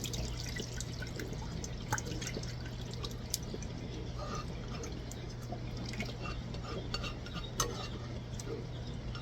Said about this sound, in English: Now I'm going to pour it through my strainer.